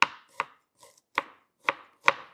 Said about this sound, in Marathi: आपण आता ग्रेव्हीसाठी कांदा कट करून घेऊ।